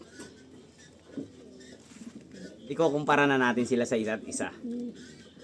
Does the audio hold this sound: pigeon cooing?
yes